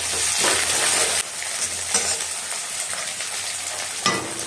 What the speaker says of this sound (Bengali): একটু বড় বড় করে কুচানো পেঁয়াজ দিচ্ছি